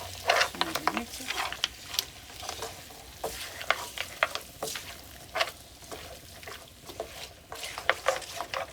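A tapioca biryani mixture is stirred in a pan, with repeated close scraping and knocking of the spoon over a light sizzle, in uneven bursts with brief pauses.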